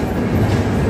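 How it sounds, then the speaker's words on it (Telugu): The Lalbagh SF Express pulls into Krishnarajapuram railway station near Bangalore with a steady, close, heavy rumble of rolling wagons and faint wheel clatter, and no voices. "6:49కి వచ్చింది ట్రైన్."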